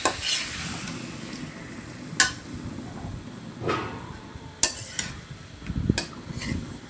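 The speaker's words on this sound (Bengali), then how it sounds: "তো এই যে আর কি পাঙ্গাস মাছটা কষাইতেছে" Pangas fish sautéing in spices in a pan, cooked in a home kitchen. A soft, steady sizzle runs throughout, broken by several sharp clinks and scrapes of a utensil against the pan.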